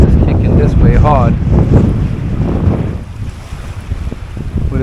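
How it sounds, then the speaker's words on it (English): Strong wind buffets the microphone on a Jamaican shoreline while fishing, a loud, steady roar with surf beneath, and a voice speaks briefly over it. "That breeze is kicking this way hard."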